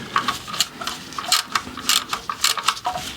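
A ratchet unscrews a part, giving a quick series of crisp, repeated clicking pawl ticks in short irregular bursts, close and fairly clear.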